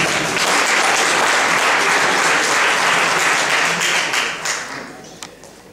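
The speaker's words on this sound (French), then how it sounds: "Applaudissez à Tissou, s'il vous plaît" Audience applause at a live Haitian quiz show event in Paris, loud dense clapping from a crowd that holds steady for several seconds and then tapers off into scattered claps.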